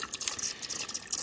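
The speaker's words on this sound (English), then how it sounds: "There's the rim jets working up there." Water rushes through the rim jets of a fully functional mini Kohler Dexter urinal in a continuous close, hissing spray with a slightly pulsing flow.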